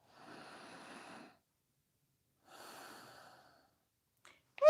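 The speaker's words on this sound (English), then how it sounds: "One more breath." Two slow, deep breaths during a yoga session, each a long soft inhale-and-exhale heard close up, separated by a pause, ending with a brief sharp noise.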